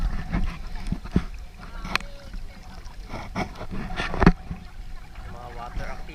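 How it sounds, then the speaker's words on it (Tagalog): A small boat is hauled onto shore at a beach in Laiya, Batangas, with scraping and bumping, water splashing and wind gusts, close and uneven, while people talk nearby. "Inaakit na yung bangka oh. Yung bangka inaakit na."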